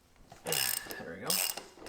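A ratchet loosens the 16mm front axle bolt on an Indian Scout motorcycle, giving a few short bursts of rapid metallic clicking separated by brief pauses, close and fairly quiet.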